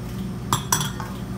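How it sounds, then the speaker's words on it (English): Three eggs being whisked with fresh herbs in a bowl for a savory vegetarian pudding, giving a few quick utensil clinks against the bowl over a steady background. "So in go 3 eggs. Just whisk it up."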